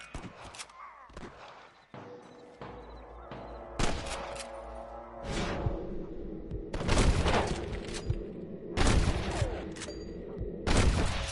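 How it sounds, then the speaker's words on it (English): Bursts of gunfire crack out repeatedly in the video game Red Dead Redemption, scattered shots and rapid volleys over a rumbling battle backdrop, growing denser and louder toward the end. "I can hear more gunshots."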